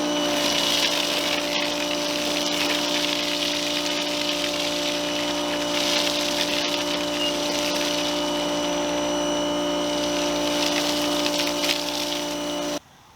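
Pressure washer spraying citrus foam through an Armor All 2-in-1 foam cannon set to full suds, a steady loud pump drone with hissing spray running continuously, then stopping at the very end.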